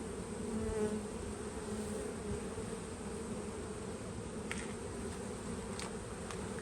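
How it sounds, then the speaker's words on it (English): Honey bees from a package colony buzz continuously around an open hive during a frame inspection, a dense steady droning hum close by, with no talking. "I'm going to blow some bees out of the way."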